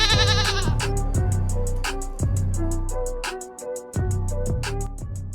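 A goat bleat sound effect plays within a podcast intro, with several bleating cries set against a rhythmic musical backing that has steady percussive hits, loud and upfront.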